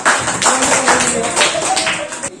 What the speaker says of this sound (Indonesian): Tepuk tangan buat teman-teman kita.